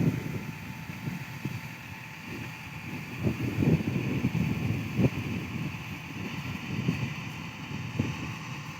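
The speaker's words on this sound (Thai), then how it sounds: "ลมแรงมาก" Strong wind blows outdoors past trees around a freshly finished slope, gusting against the microphone in uneven low rumbles that rise and fall the whole time.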